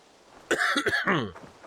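A single harsh cough close to the microphone, a brief raspy burst with a throaty tail, then quiet.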